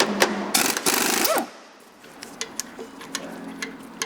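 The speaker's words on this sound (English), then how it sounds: "And I will use my air tools again. These are 3/4 inch head bolts." A pneumatic air impact wrench rattles in loud, rapid bursts through the first second and a half while removing 3/4 inch bolts from Corniche rear brake calipers. A quieter workshop with small clicks and taps follows.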